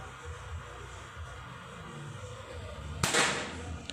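A single sharp shot from a Predator Jaguar air rifle cracks out after a stretch of quiet background noise, sudden and fairly close.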